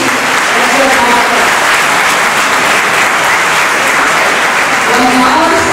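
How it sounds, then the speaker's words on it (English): An audience claps loudly and steadily in honour of senior citizens at a gathering, a thick, continuous wash of applause that stays at full strength for several seconds, with some voices faintly audible underneath. "One last round of applause for our senior citizens here, Madam Sushila Madam, and Krishna Noro."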